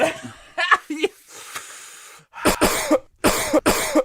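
Someone nearby coughs in a harsh burst of several hacks after a brief voice and some breathy sounds.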